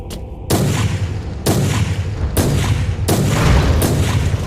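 Grenade explosions in a Warhammer assassin game: four heavy blasts about a second apart, each a loud, close boom with a rumbling tail, after a brief quiet start.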